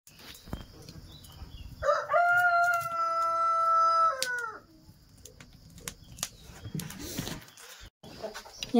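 Near and loud, a rooster crows once, a long drawn-out crow, while chickens cluck and scratch around before and after it, with some wing flapping and rustling.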